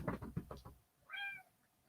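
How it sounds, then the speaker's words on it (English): A pet cat named Zuzu gives a single clear, rising meow after a few knocking sounds, close by and fairly quiet, with no talking. "That's my kitty cat."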